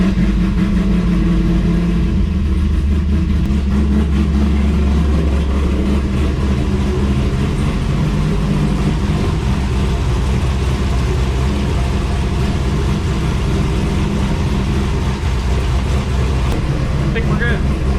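A car's LS V8 engine, freshly repaired after a coolant leak, turns over and settles into a steady, loud, close-up idle with a deep low rumble that stays constant throughout.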